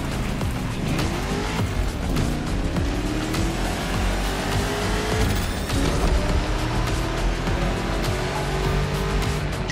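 A 1969 Ford Mustang Boss 429 engine roars and revs continuously in the racing game The Crew Motorfest, with tires squealing and skidding at times.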